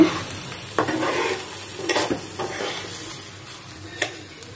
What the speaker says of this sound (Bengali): এখন আমি চালটা একটু ভালো করে ভেজে নিব।